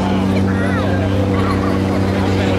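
A 1,000 horsepower radial engine hauls a biplane through slow flight at an air show, a steady droning rumble with strong low harmonics, loud and continuous, with crowd murmur underneath.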